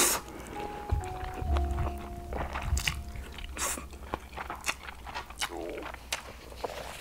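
Corn cheese carbonara buldak fried noodles are eaten up close, with wet chewing, slurping and soft squishy bites repeating in irregular bursts and a few brief sounds from a voice in between.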